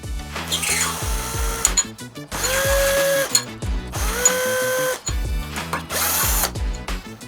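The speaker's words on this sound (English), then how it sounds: "We're going to use a drill because it's quicker and easier" A power drill whirs in repeated bursts, pitch rising as it spins up and stopping between runs, with ratcheting clicks as screws tighten the handlebars on an electric scooter.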